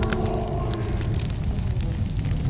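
Fire roaring in the video game Kursk, a steady dense low rumble with scattered crackles, loud and continuous throughout with no speech.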